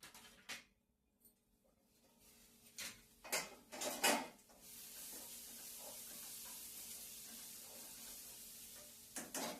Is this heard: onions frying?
yes